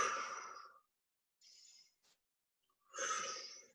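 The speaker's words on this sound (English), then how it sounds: "Exhale through the mouth." Breath pushed out through the mouth during a yoga session, with a long audible exhale, a brief softer breath, then another long exhale, close and alone with no talking.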